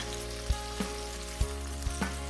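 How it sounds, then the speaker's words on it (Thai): Tofu frying in a pan for pad thai, a steady faint sizzle with a few soft thumps and stirring bumps from the utensil, no talking. "นำลงไปทอดนะคะ ให้ผิวของเต้าหู้เนี่ยมีความสุกนิดนึงค่ะจะได้ไม่เละนะคะ"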